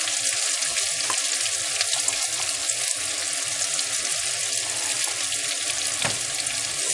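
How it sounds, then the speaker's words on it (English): Onions frying and browning in a pan with a little salt, a steady close crackling sizzle running throughout with faint scraping clicks, no voices. "I want the onions to brown slightly, so I'll add in some salt."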